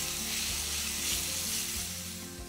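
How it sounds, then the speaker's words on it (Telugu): Paneer pieces frying in a pan with red chilli paste, a steady dense sizzle close up, with a few soft spatula scrapes and no voices. "దీంట్లో పన్నీర్ని కొంచెం వేయించాలి"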